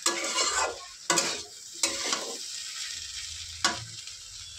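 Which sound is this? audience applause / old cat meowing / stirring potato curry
stirring potato curry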